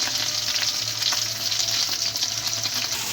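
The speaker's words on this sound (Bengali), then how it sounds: "মাছগুলো দুই পাশে ভালো করে ভাজা হয়ে গেলে যেহেতু মাছের ঝোল করবো তাহলে একটু মাছ তাড়াতাড়ি ভেজে নেব" Fish sizzles steadily in hot oil, fried on both sides for a fish curry; a close, continuous bright crackle and hiss with small pops throughout, no talking.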